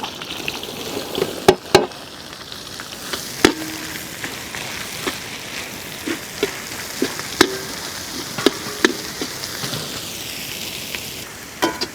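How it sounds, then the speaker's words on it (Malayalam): Small shallots frying with curry leaves and whole spices such as cinnamon, cloves, cardamom, star anise and fennel, a steady crackling sizzle with sharp pops and occasional stirring clicks, close and without talk. "ചെറിയ ഉള്ളി ഒന്ന് വാടി വരട്ടെ."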